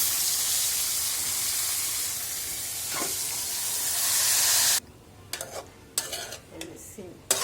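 Oil poured into a pan with salt, ginger-garlic paste and turmeric for a fried broad bean (shim) dish gives a steady, close hissing sizzle that suddenly stops, followed by a few scattered clinks of utensils.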